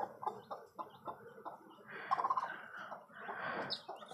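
Native hens with a fresh brood of hatched chicks, clucking in soft, repeated low calls with thin chick peeps mixed in, close by and moderately quiet, continuing for several seconds.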